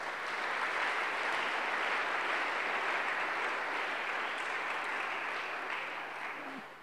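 A congregation at a church service in Lubumbashi applauds, a broad, steady wash of clapping that holds for several seconds and fades slightly at the end, with no voices over it.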